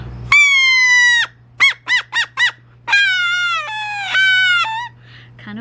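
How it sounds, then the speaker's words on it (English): Shrill reedy whistles made by blowing across a blade of grass, in long sustained squeals broken by four short rapid bursts, loud and close, rising and wavering like a bird call. "I can make sounds using a piece of grass. All pieces of grass have a different sound to them"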